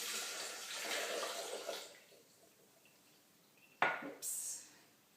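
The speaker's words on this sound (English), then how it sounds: "And you pour in your water." Water splashes into a blender for about two seconds, then quiet, followed by a couple of sharp clunks and a brief rattle.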